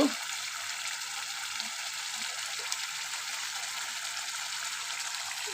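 Turmeric and chili powder frying in hot oil for a fish curry with bata fish, eggplant and potato: a steady, close hiss of sizzling that stays even throughout, with light stirring clinks and no talk.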